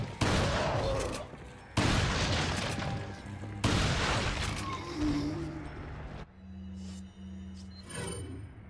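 TMP submachine gun in Resident Evil 4 firing in three loud sustained bursts, each a rapid stream of shots, followed by a quieter stretch of lighter game sounds.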